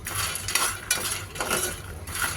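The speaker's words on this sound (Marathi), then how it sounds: "मखाने अशा प्रकारे क्रिस्प होईपर्यंत तुटले पाहिजे तोपर्यंत भाजून घ्यावेत।" Makhana (fox nuts) dry-roast in a pan with rhythmic clinks and scrapes of a spoon stirring, several close metallic strokes over a faint frying hiss.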